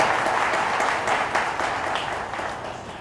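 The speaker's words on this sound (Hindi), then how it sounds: "तो एक बार जोरदार तालियां इन बच्चों को बहुत बहुत मुबारक" A church congregation at a Sunday Mass bursts into dense applause for children receiving their first communion, a broad clapping roar that slowly fades over a few seconds.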